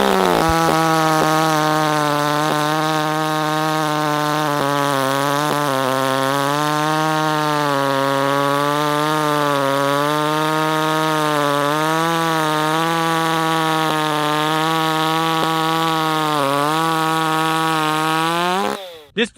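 Close and loud, a hot-rod 30cc Echo CS310 chainsaw with a long bar screams at steady high revs for nearly twenty seconds, its pitch dipping slightly now and then under load before cutting off abruptly at the end.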